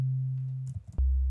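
A pure sine-wave 808 bass synth patch in Serum drones low and steady, breaks off briefly with a few soft clicks, then returns as a deeper, louder sustained tone.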